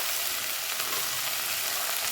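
Potatoes and raw peanuts fry in a pan with a bright, steady hiss of sizzling oil, close and continuous, with faint stirring crackle.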